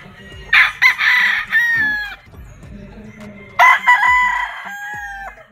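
Two gamefarm roosters of an Elgama gray straight comb hatch crow loudly and close by, one long crow after another, with faint clucking in the background between them.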